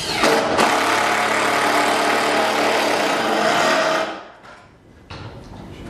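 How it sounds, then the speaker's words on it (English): A power drill drives ordinary wood screws to fix window blind brackets, one loud continuous whirring burst lasting about four seconds before it stops abruptly, followed by quieter handling noise. "We fix the brackets after alignment and measurement by using a normal wood screws."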